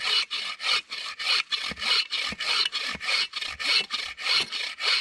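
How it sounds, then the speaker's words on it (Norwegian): A folding saw cuts through wood in a fast, even rhythm, about twelve rasping back-and-forth strokes, close and loud with no talking. "Så ved å bruke sag så sparer jeg en god del krefter."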